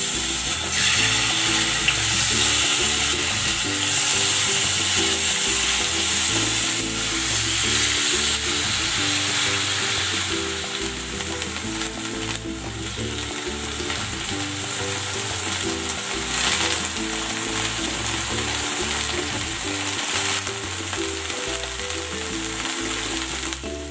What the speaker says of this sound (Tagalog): Maglalagay ako ng cooking oil. Ipan-fry ko muna itong pork.